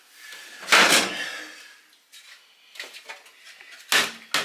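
An Electrolux dryer door is shut, giving a loud close knock followed by a few softer clicks and thuds as the latch and door settle.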